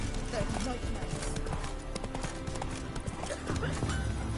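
Roach the horse trots in The Witcher video game, a steady clip-clop of hooves running throughout with a brief whinny, layered under a voice and game background sound.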